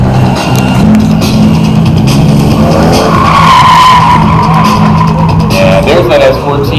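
A short-wheelbase S14 drift car skids sideways at a drifting event, its tires squealing loudly and continuously as the engine drones underneath, with a commentator talking over the noise.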